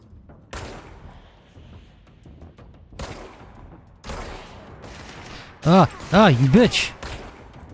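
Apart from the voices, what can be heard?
gunfire from the video game Control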